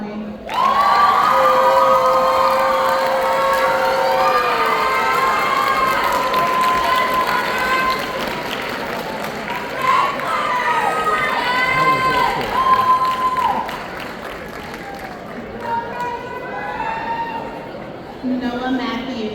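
A crowd at a high school graduation ceremony cheers loudly with shouts and whoops that swell, dip and rise again, and voices carry over the noise.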